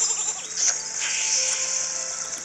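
A sheep bleats in the 3DS game Skylanders: Spyro's Adventure over a bright, steady electronic hum and background game music, fairly loud and close.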